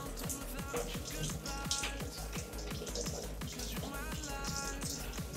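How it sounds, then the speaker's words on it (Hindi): Water pours into the tub of an LG top-load fully automatic washing machine, a continuous splashing and trickling heard close up for several seconds without talk. "तो ये आप देख सकते हैं पानी जो आ रहा है वॉशिंग मशीन के अंदर।"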